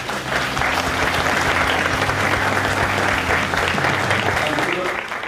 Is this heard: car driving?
no